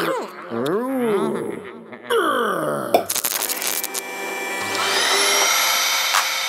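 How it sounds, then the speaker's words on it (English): A vacuum cleaner starts up after a short stretch of singing, then drones with a loud, rising whine and a steady, noisy rush. "Vacuum cleaner."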